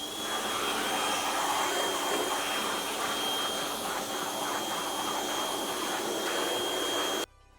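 Water spraying onto a screen printing screen during cleaning, a continuous broad hissing rush that holds steady and close for several seconds before cutting off abruptly, with no talk.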